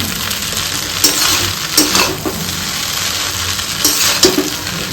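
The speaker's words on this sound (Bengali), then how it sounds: "ভাজা হচ্ছে চাউমিন" Steady sizzling of noodles frying in a pan, with occasional louder bursts of stirring and clinks of a utensil against metal.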